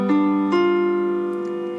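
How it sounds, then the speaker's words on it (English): A dominant seventh chord rings out, its notes entering almost together and then sustaining into a smooth, slowly decaying blend, close and clear with no talking. "We're gonna do the dominant seventh chord,"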